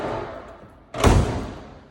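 The door of a Datsun S30 fitted with aftermarket door mirror mounts is swung shut in one solid, close thud, followed by a brief low rattle as it settles.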